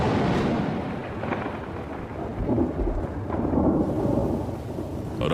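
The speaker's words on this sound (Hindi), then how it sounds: "आसमान में काले बादल दिखाई देने लगे हैं। बरसात आ चुकी है।" Thunderstorm over Kakadu, Australia, with deep rolling thunder rumbling beneath steady heavy rain, loud and continuous throughout.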